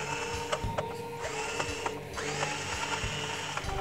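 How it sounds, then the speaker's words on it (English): A Hitachi electric screwdriver with a loosely set clutch backing screws out of a Nintendo GameCube, a steady close motor whir with small clicks and ratcheting ticks running throughout. "we actually have a Hitachi electric screwdriver that I use"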